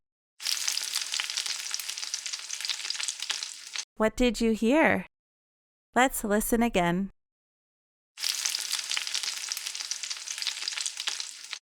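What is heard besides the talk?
food sizzling while frying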